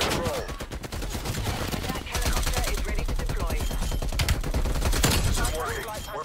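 Dense rapid gunfire in the video game Call of Duty Cold War, continuous bursts of shots with a heavier stretch midway, while players talk over the shooting.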